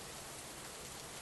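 Steady rain falling across a garden, an even dense hiss of drops with no pauses, soft and continuous with no voices.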